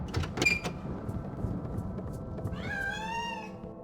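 A cat meows in the stealth video game Thief 3, a clear drawn-out wavering cry near the end after a brief earlier chirp, heard alone against quiet game ambience.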